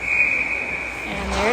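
A referee's whistle shrills at an ice hockey game, one sustained high blast lasting over a second, with arena noise and a commentator talking over it.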